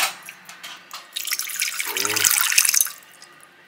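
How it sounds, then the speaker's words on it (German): Tap water runs into a small glass jar for salt brine, starting with faint drips and swelling to a steady splashing stream that rises in pitch as the jar fills, then cuts off. "Dann geben wir dann ein bisschen Wasser dazu, das halt für das kleine Glas gereicht."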